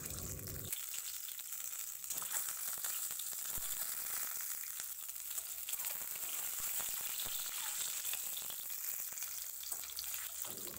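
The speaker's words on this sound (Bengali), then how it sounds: "খোসা ছাড়ানো ডিমগুলোর এইভাবে একটু ছুরির সাহায্যে কেটে দেব আর একটু হালকা করে ভেজে নেব" Peeled boiled eggs, lightly scored with a knife, frying gently in mustard oil with a little salt; a faint, steady sizzle with small crackles continues throughout.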